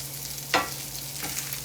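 Italian sausage in a cast iron pan gives a low, steady sizzle, with one sharp scrape as it is stirred and a fainter second scrape a moment later.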